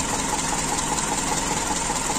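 Carburetor engine of a Toyota Kijang Super idling while the vehicle stands still, a steady close rumble with no change in pace and no voices.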